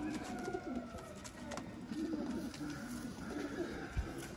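Pigeons of the Tunian breed coo softly in low repeated murmurs against a noisy, faint background, with a brief knock near the end.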